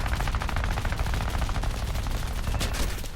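War Thunder gunfire comes as a loud, dense, rapid burst of automatic shots that keeps going without a break the whole time.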